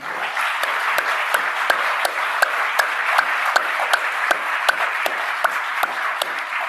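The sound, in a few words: applause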